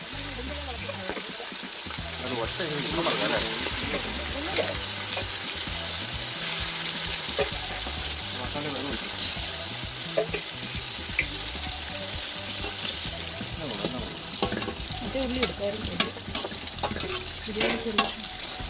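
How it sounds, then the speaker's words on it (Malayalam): Marinated chicken frying in oil sizzles steadily at close range, with stirring scrapes and occasional pops over a background of tonal, voice-like sounds. "നമ്മൾ നേരത്തെ മസാലയിൽ ഉപ്പും പുരട്ടി വെച്ചിരിക്കുന്ന ചിക്കൻ ഈ എണ്ണയിലൊന്ന് പൊരിച്ചെടുക്കണം ആദ്യം."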